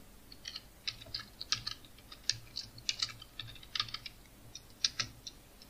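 Quick irregular keystrokes on a computer keyboard used for Tamil typing tap out close and crisp, with bursts of clicks and short pauses over a quiet room hum.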